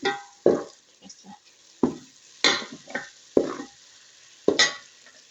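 Rohu fish head sizzling in a hot pan as it fries, in short bursts of hissing and stirring that rise and fade, with no talking over it.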